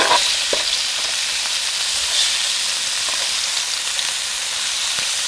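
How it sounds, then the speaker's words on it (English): Onion and halved cherry tomatoes fry in a pan on a small gas cooker, giving a steady, close sizzle with faint stirring scrapes throughout, no voices. "Next thing I'm going to pop in there now is my onion."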